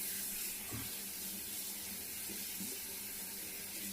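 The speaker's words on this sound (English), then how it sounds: "put a little bit of water just to rinse it out a little bit." Water runs from a tap to rinse crochet hair, a steady hissing stream with a few splashy bursts of water hitting the hair over four seconds, fairly quiet and with no talking.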